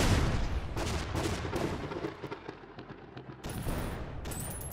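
Artillery shots boom in ShellShock Live, several heavy blasts and rumbling bursts following one another closely, loud and dense, with no speech.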